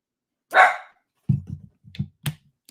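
Dogs bark nearby in an indoor setting: one loud, breathy bark followed by a quick series of shorter, lower barks and yips, with silence between them.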